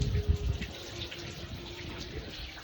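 Tap water runs steadily while clothes are washed by hand, a close, continuous splashing gush with small sloshing variations and no voices.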